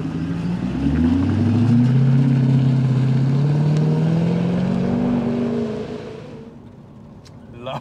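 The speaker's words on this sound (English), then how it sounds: "Lovely, lovely sounding engine." A Jaguar XKR X100 sports car engine revs up hard in sport mode, pitch climbing steadily through the gears, loud and close, then easing off and fading.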